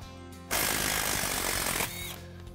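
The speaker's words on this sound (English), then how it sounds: "We're gonna remove these six 10 millimeter bolts." Power tool on a 10 mm driveshaft bolt of a 2018-2020 Mustang during a clutch install, giving one loud, steady, rattling burst of about a second and a half that then tails off.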